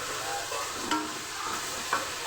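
Tomatoes and onions sautéing for a fish curry, a constant close sizzle with a couple of brief scrapes as a utensil stirs the pan, no voices heard.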